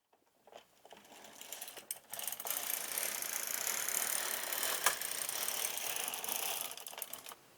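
A knitting machine carriage sliding across one row, a sustained mechanical whirring and clatter rising after a few clicks and holding steady for several seconds before stopping, close by.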